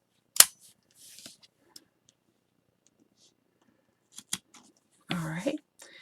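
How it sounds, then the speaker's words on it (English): Scissors snip white yarn while loom knitting a doll dress, one sharp close cut and a few softer clicks, with quiet talk near the end. "we're going to snip this white, leave a tail so you can tie into your next color"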